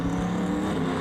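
Drag racing car engine drones steadily at a dragway, a loud, sustained mechanical hum holding a constant pitch without clear revving or a pass.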